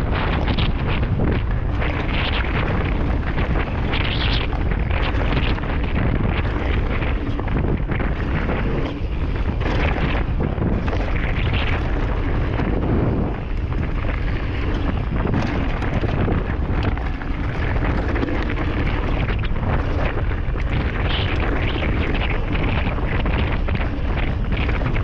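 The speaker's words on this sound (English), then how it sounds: "Too windy out there." Heavy wind on a mountain bike trail roars across the microphone in constant loud buffeting gusts, a thick rumbling rush that never lets up.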